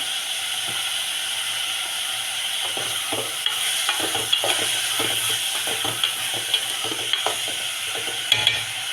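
Chopped onions cook with a pinch of salt in a pan for a Sunday mutton curry, giving a steady sizzle and hiss with scattered scraping stir strokes throughout, close and alone with no talk.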